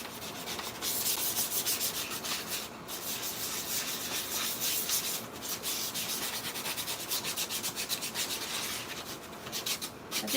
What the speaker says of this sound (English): we're just sanding it down with some 320